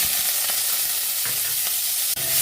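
Onions fry in hot oil with cumin seeds with a loud, continuous sizzle, broken by a few brief scrapes of stirring.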